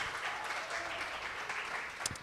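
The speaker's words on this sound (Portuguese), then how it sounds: "Eu queria que você pudesse recebê-la com uma forte salva de palmas" A church congregation applauds to welcome pastor Michele, a steady wash of clapping holding at an even level for a couple of seconds, with a brief louder burst near the end.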